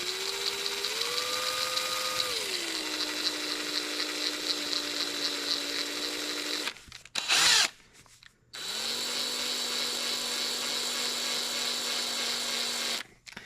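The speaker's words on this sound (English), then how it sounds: "Chuck them up in the old drill and give them a slow spin." An old electric drill spins at low speed with 2008 Suzuki RM-Z250 engine valves chucked in it, giving a steady whine with tonal hum that shifts pitch as the trigger is eased, stops briefly near the middle, then resumes.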